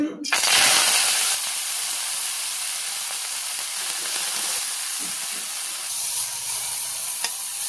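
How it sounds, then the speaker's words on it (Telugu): Coriander leaves fry in a hot pan, giving a loud burst of sizzling when they hit the oil, then a steady, dense hiss and crackle with faint stirring throughout. "నెక్స్ట్ వచ్చేసి మనం కొత్తిమీర వేయించుకుందాం"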